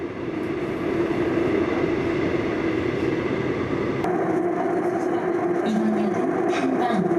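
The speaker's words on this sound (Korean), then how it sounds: "우리 귀에 들리는 가청 주파수대의 소리만으로도 지하철 소음은 심각한 수준이다." Steady loud rumble of a subway train heard from inside the carriage, broadband roar with a tonal hum that shifts partway through as the train changes pace, continuous for the whole stretch.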